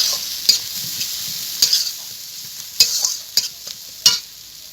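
Chopped garlic frying with browned onions in oil in a pan for a homemade taro-leaf dish, a steady close sizzle broken by several sharp stirring scrapes.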